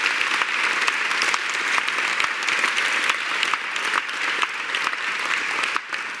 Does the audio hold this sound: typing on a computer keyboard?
no